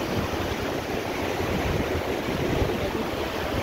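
The Arun river rushes past at a construction site for an underpass, a steady, broad roar of flowing water, loud and unbroken, with no voices.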